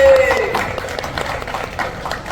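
An audience at a poetry gathering gives scattered, irregular applause to welcome a poet, with a voice speaking over the clapping.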